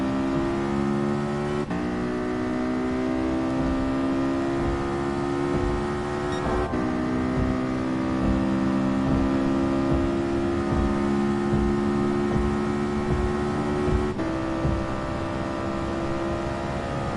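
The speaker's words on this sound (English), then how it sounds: "These cars sound so awesome. They're so authentic." A racing car in Gran Turismo Sport revs steadily up through the gears, its engine note climbing and then dropping sharply at each shift, loud and continuous.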